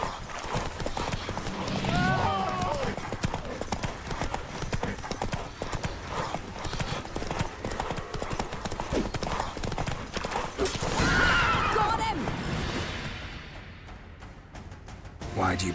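Roach, the horse in The Witcher 3, trots with rapid clip-clopping hooves, neighing near the start and again later, while someone talks and other game sounds mix in.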